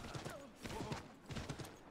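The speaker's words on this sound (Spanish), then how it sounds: "Sí, lo siento, voy en caballo." Horse hooves clip-clopping in Assassin's Creed 3 Remastered, a quiet, uneven trotting clatter of clustered hoof strikes with faint muffled voices underneath.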